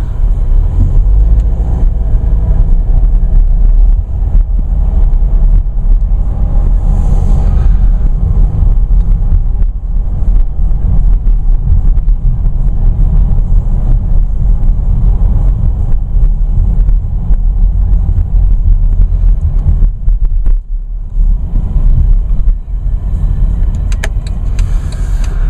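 Cabin of a 2014 Mercedes-Benz GLK 250 on the move, a steady low engine and road rumble with wind noise throughout, dipping briefly near the end.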